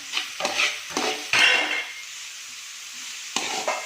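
Capsicum is stirred and fried in a pan for vegetable fried rice. Several scraping stir strokes ring out over a soft sizzle, with a quieter stretch between them and no voices.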